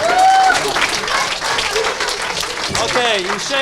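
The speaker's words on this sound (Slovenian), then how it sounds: "Dajmo en velik aplavz." Loud applause and cheering from an audience at an improv theatre show, a dense burst of clapping with whoops and voices over it, continuing without pause.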